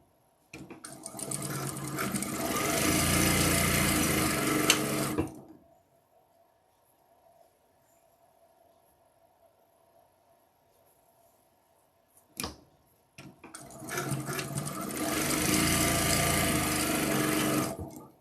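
A sewing machine runs a lock stitch in two sustained bursts of whirring, rapid mechanical chatter, each about five seconds long, separated by a long quiet stretch with a faint hum and a single sharp click.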